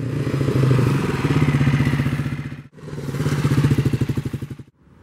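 A 1984 Kawasaki KLR motorcycle engine idles with a loud, pulsing thump, revs briefly, cuts out, then runs again before stopping.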